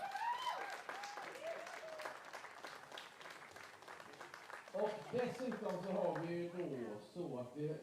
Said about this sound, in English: final round of applause for our competitors